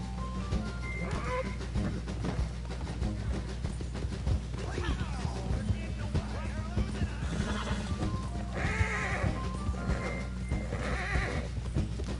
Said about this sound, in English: Stupid horse, get out from underneath there.